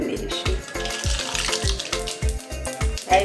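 Mustard seeds sizzle and crackle in hot oil being tempered for a Kathiyawadi-style whole onion curry, a dense, steady frying hiss with faint popping, close and loud, with no talk.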